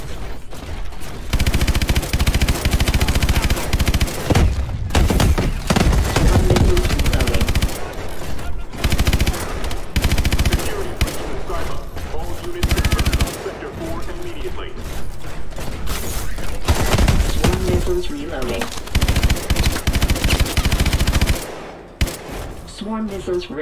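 A vehicle's main gun fires in Call of Duty Advanced Warfare: loud, sustained heavy automatic fire with mechanical clatter, broken by brief pauses, mixed with in-game radio voices and rattling machinery.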